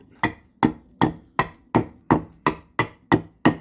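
Steady, evenly spaced knocks while a green wood bread bowl is carved, about ten sharp strikes in under four seconds, close and distinct with quick decays and no talk.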